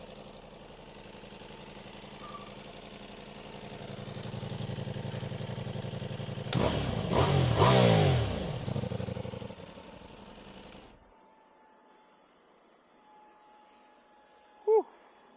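A 2024 Ducati Diavel V4 motorcycle idles nearby with a steady, low rumble that swells briefly in the middle, then cuts out abruptly, leaving near silence broken by a faint click.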